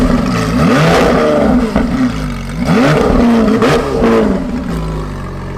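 Lamborghini engine in sports mode revving hard and loud up close, with repeated rising and falling sweeps, standing alone without talk.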